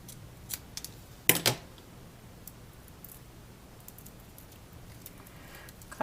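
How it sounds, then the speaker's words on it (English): Scissors trim a strip of paper for a Cricut pop-up birthday card, giving a couple of quick, close snips with faint handling rustle before and after in an otherwise quiet room. "Cut it a little long, but that's okay. That's what scissors are for."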